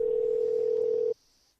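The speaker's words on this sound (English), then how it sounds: "It's ringing, guys. It's ringing." A phone call's ringing tone, one steady loud tone lasting about a second that then cuts off abruptly, leaving a faint hiss.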